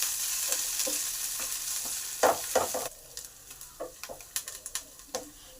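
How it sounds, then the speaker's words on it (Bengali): Washed chana dal and curry leaves fry in a pan without oil, a close sizzle for a few seconds giving way to quieter rhythmic spatula taps and scrapes. "তার সাথে ছোলার ডাল আর কারি পাতাগুলোকেও ধুয়ে দিয়ে দিলাম। এবার এগুলোকে একটু ভালো করে ভেজে নেব।"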